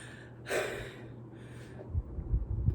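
Heavy, breathy panting from a person just finished a home workout: a loud gasping exhale near the start, then softer labored breaths, close to the microphone with low rumbling handling noise.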